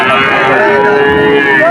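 A cow at the Chaugachha cattle market gives one long, loud moo lasting nearly two seconds, close by and clear over the background murmur of the crowd.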